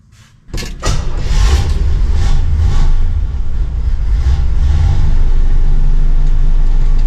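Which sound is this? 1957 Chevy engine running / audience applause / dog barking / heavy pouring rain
1957 Chevy engine running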